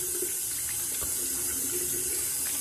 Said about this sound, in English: I rinse with hot water first